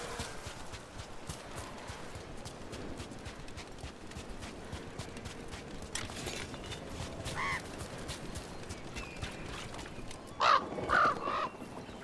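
A crow caws in the Dragon Age: The Veilguard video game, a few short calls near the end over a steady bed of game ambience and footstep-like clopping, with no talk.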